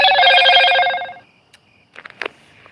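A phone rings loudly with an electronic ringtone for about a second, then goes silent, followed by a few faint clicks and short rustling sounds.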